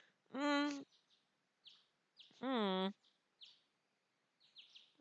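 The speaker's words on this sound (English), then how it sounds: "Woken by the birdsong outside my window, I slowly open my eyes." Birdsong outside a bedroom window in the visual novel Code Realize, heard as two drawn-out, harmonically rich calls with short chirps between them, clear and close against silence.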